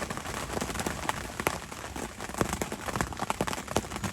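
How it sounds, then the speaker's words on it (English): Heavy rain drums on a bivvy shelter beneath a big tree, a dense, close, steady patter with sharper individual drops striking the fabric throughout. "The rain's pretty loud."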